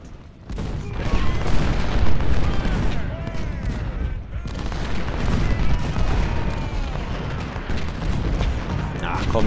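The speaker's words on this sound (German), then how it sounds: "die Kanone lassen wir auch nochmal schön seitlich draufholzen" Cannon and artillery fire in the Civil War strategy game Ultimate General, Battle of Gettysburg: dense, continuous booms and rolling gunfire with overlapping blasts, loud and sustained across the whole stretch.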